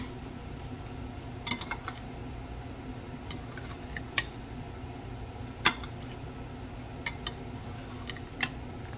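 Scattered light clinks and taps of a utensil against a pan while mixing cumin seasoning, a few spaced strikes over a steady low background hum.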